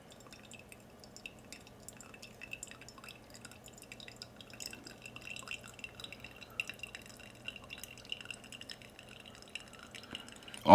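Faint, irregular drips of coffee trickle steadily through a pour-over filter over a low background hum, ending with a sudden louder knock.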